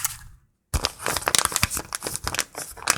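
Crisp paper surprise bags crinkle and rustle up close in a steady, busy stream of crackles after a brief pause, with no talking.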